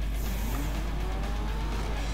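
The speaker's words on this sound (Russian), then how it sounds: "Как же она рычит двигателем" The Annis 300R car in GTA 5 Online roars steadily on a race track, a continuous loud engine drone with rising revs and no talking.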